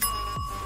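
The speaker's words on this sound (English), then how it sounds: "Hess, you've already used your bells." A short, bright bell chime rings once in a video game, a clear pure tone that sustains briefly, with a low thud underneath.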